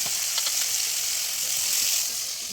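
Steady, even sizzle of fish sautéing in a pan after water, turmeric, chili and salt go in, a soft continuous hiss without voices.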